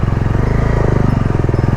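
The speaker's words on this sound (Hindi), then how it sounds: "बाइक को कितना प्रेशर पड़ रहा है, आवाज़ से तो सुन ही पा रहे होगा आप लोग" A Bajaj Dominar 250 motorcycle engine labors loudly and steadily off-road, its rapid pulsing thrum close by, straining under heavy load.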